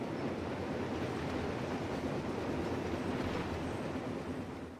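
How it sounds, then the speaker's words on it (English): A train passes in the Forza Horizon 3 racing game as a steady, dense rumbling roar, moderately loud and unbroken for several seconds, fading slightly at the end. "Train!"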